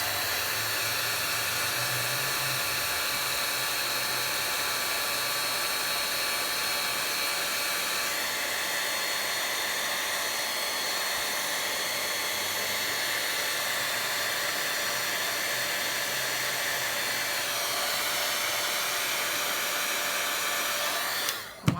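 A heat embossing tool melts embossing powder coated on a button held with tweezers, giving a steady, loud, close blowing whir like a hair dryer that runs unbroken and cuts off at the end.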